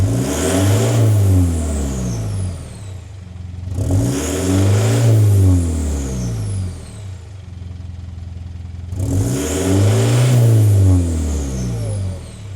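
A Mitsubishi Pajero engine fitted with a 3-inch exhaust and turbo revs hard three times, each deep throaty swell rising and falling back toward idle, loud and close.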